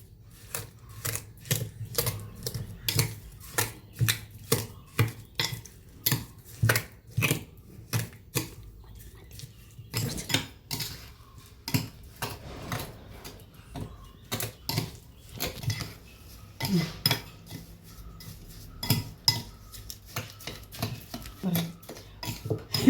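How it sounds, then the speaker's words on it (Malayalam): A fork mashes banana in a bowl for aval milk, making a long series of quiet, close, irregular taps and clinks against the dish, with no voices. "ഫോർക്ക് വെച്ച് ഇങ്ങനെ ഉടച്ചെടുക്കാനേ പറ്റുള്ളൂ"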